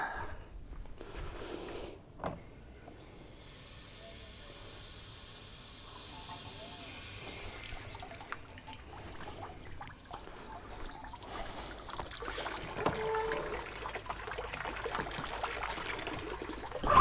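Hose water runs through an outboard motor's flushing fitting to clear out salt, a steady low hiss and trickle that continues throughout and grows slightly louder toward the end.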